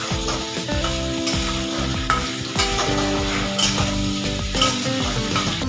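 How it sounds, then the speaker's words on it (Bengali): Fried cauliflower florets are stirred into a thick spice masala in a pan, making loud repeated scraping strokes of a spatula over a busy sizzle, close up and steady throughout. "এরপর আমি দিয়ে দিচ্ছি এখানে ভেজে রাখা ফুলকপি আর ফুলকপিগুলোকে নিয়ে ভালো করে মিক্স করে নেব মশলার সাথে।"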